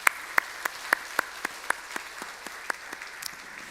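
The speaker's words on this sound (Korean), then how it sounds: "우리 인사하실 때 한 번 더 박수해 주세요." A church congregation gives a short round of applause at a Sunday service for a young man leaving to enlist in the navy. The claps come as sparse, distinct hand claps at an uneven pace and sound faint to moderate.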